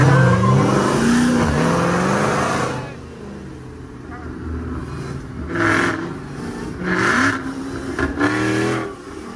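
A Jeep Trackhawk drives over a bumpy road, its engine and road rumble loud and close throughout, with someone talking over it in the first few seconds and again briefly later.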